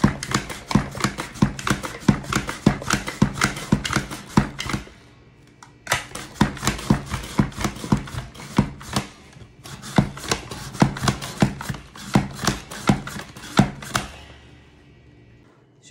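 A knife chops potatoes into sticks on a board in quick, even rhythmic strikes, close and crisp, with a brief pause near the middle and another near the end.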